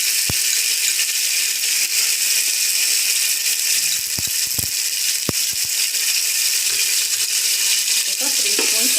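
Ginger garlic paste fries in a pan for prawn biryani, making a dense, constant hiss of sizzling oil with a handful of brief clicks and knocks scattered through it.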